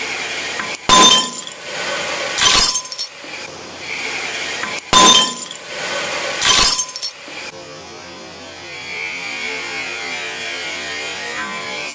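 Glass is smashed in four sharp, loud shattering bursts with tinkling debris after each, followed by a lingering low background rumble.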